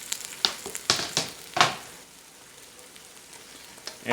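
Mushrooms and thyme sizzle in a hot pan over medium heat, with several brief scraping stirs in the first two seconds and then a steady close frying hiss, alone without talking.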